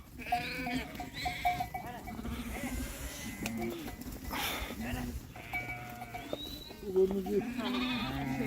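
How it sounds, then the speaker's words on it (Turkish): A flock of sheep and lambs bleats continuously, many wavering cries overlapping near and far, while people talk among them. "Arada kuzular kaçmaya çalışıyor."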